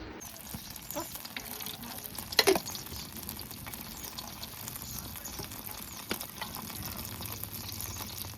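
Cumin seeds sizzle in hot oil in a village kitchen. A soft, steady fizzing crackle runs throughout, broken by one short clattering knock near the middle.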